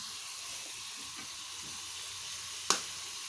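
String beans fry in a pan for Filipino adobong sitaw, a continuous, even sizzling hiss heard close up, broken once by a single sharp click or clink.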